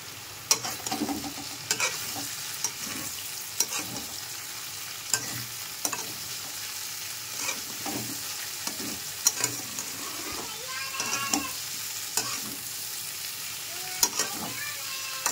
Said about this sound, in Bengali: তো চলুন আলুটা এবার ভেজে নিই।